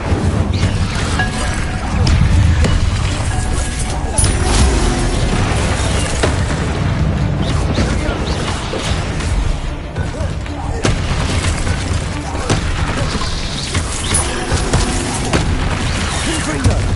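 Incendio and Confringo spells cast in the video game Hogwarts Legacy, a dense run of loud booming fire blasts and explosive bursts over continuous combat noise, with a voice calling out over them.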